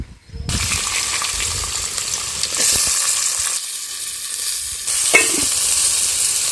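Onions and green chillies hit hot oil for a tamarind chicken curry, bursting into a loud, steady sizzle that swells after the first half second and rises again near the end with a brief clink.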